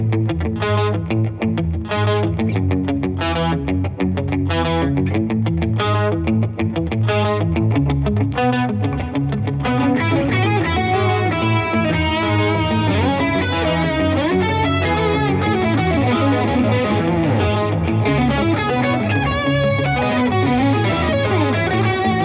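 A Fender Chrissie Hynde signature Telecaster electric guitar played through effects with added gain gives a loud, distorted, chorus-tinged rock passage: rapid chugging notes at first, then ringing sustained chords and lead lines over about twenty seconds.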